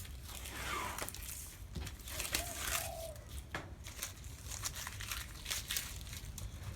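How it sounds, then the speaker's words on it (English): Tape bought from a hardware store is peeled off a surface in close, crinkly tearing rips and crackles, a string of uneven bursts with no talking. "what we do is we take the tape off."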